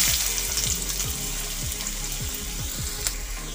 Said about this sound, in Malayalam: വെളിച്ചെണ്ണ ചൂടായി വന്നു കഴിഞ്ഞാൽ ഇതിലേക്ക് കുറച്ച് സവാള അരിഞ്ഞിട്ടുള്ളത് ഇട്ട് കൊടുക്കാം